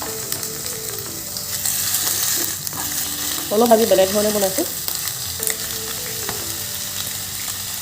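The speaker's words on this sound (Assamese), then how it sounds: "কেৰাহী গৰম হ'ল, মই মাংস পিচ দি দিছোঁ।" Rib pork pieces sizzle in a hot wok, with a steady, bright frying hiss throughout. A voice speaks briefly over it midway.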